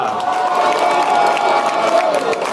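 In a town square at a night festival, a crowd of over five thousand claps and cheers, a loud, steady roar with some scattered shouts and whistles mixed into the applause.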